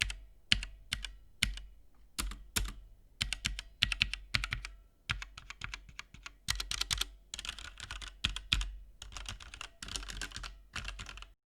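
Typing on a Motospeed GK82 mechanical keyboard gives close, crisp bursts of key clicks in uneven runs, with a faint metallic ringing after the strokes.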